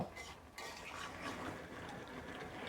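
Food being stirred in a cooking pot before the lid goes on, a steady low scraping and clinking of utensil against metal, close and continuous with no talk.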